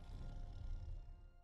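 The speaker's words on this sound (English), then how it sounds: "The roar is the MGM Lion roar" The MGM lion roar used in the film Poltergeist sounds as a loud, rumbling low growl sustained for a second and a half, fading slightly at the end, with no voices.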